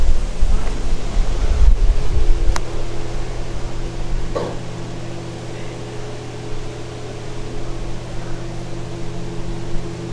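A rebuilt 390 cubic inch AMC V8 in a 1970 AMC Rebel Machine idles with a steady, loud low rumble, heaviest in the first couple of seconds and then settling into an even drone.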